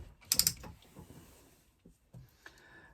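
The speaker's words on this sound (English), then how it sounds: "I'm going to back stitch a couple of stitches at the beginning and the end." A sewing machine back stitches along an internal zipper pocket, a short quick burst of mechanical clatter followed by a few faint clicks and knocks, close and without talking.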